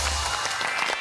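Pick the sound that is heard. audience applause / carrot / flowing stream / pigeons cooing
audience applause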